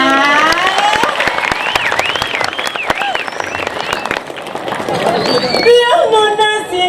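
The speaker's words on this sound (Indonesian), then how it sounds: "Tepuk tangan lah." Audience applause at a Balinese Calonarang temple performance, crowd clapping mixed with loud voices, whoops and chatter in a busy, close scene.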